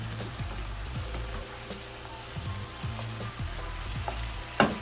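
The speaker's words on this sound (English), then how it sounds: "soon that garlic hit the heat, you can smell it" Garlic sizzling in a hot pan while cooking vegetable lasagna, a steady close crackling fry with small intermittent pops and stirring scrapes, no talking.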